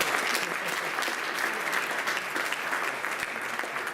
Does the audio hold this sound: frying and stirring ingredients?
no